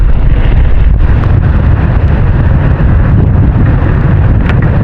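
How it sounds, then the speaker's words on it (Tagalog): Steady, loud wind buffeting the microphone on a Benguet road after Typhoon Emong, a continuous low rumbling roar with no voices. "medyo mahangin dito"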